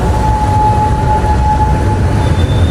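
A loud, steady rumble of a train at a railway station in Zurich fills the air, with a sustained metallic tone ringing over the continuous clatter of moving rail cars.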